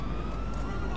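A police car siren in a video game wails steadily and fairly loudly for the whole second, with no break in the tone.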